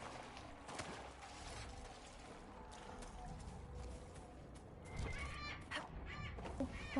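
Crow-like caws in Dragon Age Inquisition, a few faint calls heard far off over a quiet, noisy ambient background.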